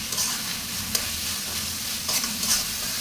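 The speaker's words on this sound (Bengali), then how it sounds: "ভাজার জন্য লট্টাশুটকি এটা দিয়ে দিলাম" Dried lotta fish (shutki) fries in a pan of cooked-down spice masala while being stirred: a close, continuous sizzle with scraping stir strokes and a few soft clinks, no voices.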